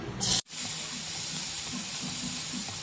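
Garlic fries in oil with a loud hissing sizzle that starts in a sharp burst, breaks off for a moment, then settles into a steady sustained crackle.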